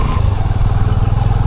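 A motorcycle stuck in mud revs hard and close, a loud continuous throbbing engine note with slight clatter, heard alone.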